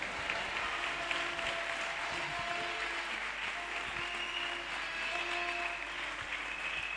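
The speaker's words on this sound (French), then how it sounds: "Est-ce qu'on peut acclamer pour cette parole?" Congregation clapping in a church service, steady sustained applause filling the room at a moderate distance, even and continuous without voices standing out.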